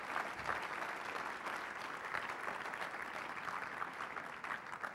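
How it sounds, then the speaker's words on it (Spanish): A church congregation gives sustained, dense applause, steady and fairly distant, filling the room evenly without pause. "Un aplauso a Dios, por favor."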